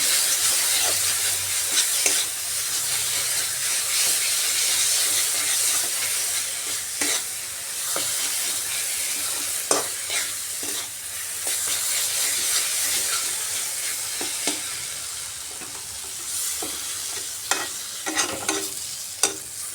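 Spice paste frying in a pan for a Bengali rui fish head curry, a continuous sizzle with repeated scraping stir strokes throughout, close and fairly loud, no talking.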